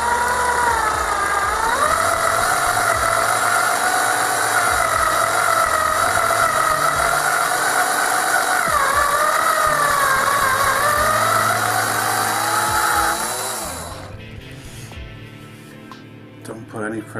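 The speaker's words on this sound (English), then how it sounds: "just let the drill pull itself through." A drill bores slowly through an epoxy workpiece, a steady droning whine that wavers in pitch for about thirteen seconds before winding down and fading away.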